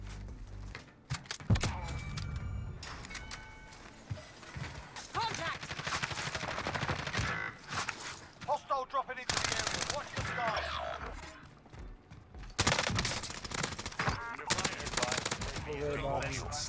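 Gunshots in the video game Warzone on Rebirth Island with a KAR98k rifle, sharp loud reports scattered among dense game noise and bursts of other gunfire, with someone talking over parts of it.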